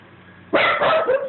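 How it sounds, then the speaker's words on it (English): A dog gives a single loud, close bark that trails off into a short yelping tail after a quiet, low hum, with no talking. "Oh, there's the dog."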